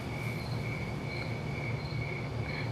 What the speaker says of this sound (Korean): 이게 숲에서 나는 약간 귀뚜라미 소리 같은 느낌?